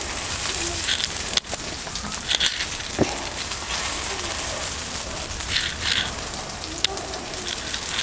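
Continuous soft sizzling of bread rolls toasting on a hot griddle, with a few brief clicks and taps over the steady hiss.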